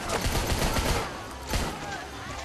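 Gunfire in the PS3 video game Rambo: a rapid burst of automatic shots followed by a second cluster, sharp and loud over a brief stretch, with faint game ambience beneath.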